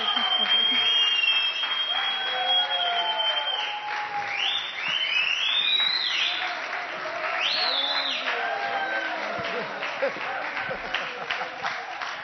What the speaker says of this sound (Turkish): yoğun bir ilgi, tezahürat, alkış